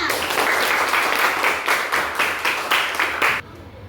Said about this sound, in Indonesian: silakan udah beri tepuk tangannya